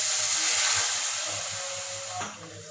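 Half a glass of water poured into a hot pan of fish and potato masala curry, giving a steady close steamy hiss and sizzle that tapers off near the end.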